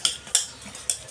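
Dhokla batter with a spoonful of baking soda is whisked, giving three sharp utensil-on-bowl clinks spaced unevenly over a quiet background, with no talk.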